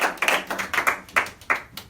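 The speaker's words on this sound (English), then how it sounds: "Let's give Jedidah a round of applause." A small audience claps through a short, sparse round of applause, with individual hand claps distinct and fairly close.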